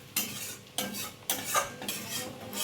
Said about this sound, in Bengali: রসুনটা একটু হালকা তেলে ভেজে নেব।